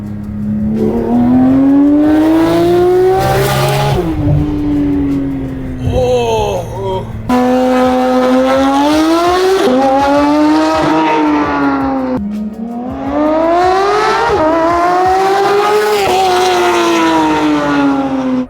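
A sports car with a loud aftermarket exhaust revs hard several times, engine pitch climbing and falling in repeated bursts, close by, with a brief exclamation.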